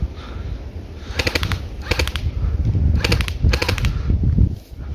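Bursts of fully automatic fire from an ICS L86 LSW airsoft rifle, four short volleys of rapid clicking shots at close range, separated by brief pauses over a steady outdoor background.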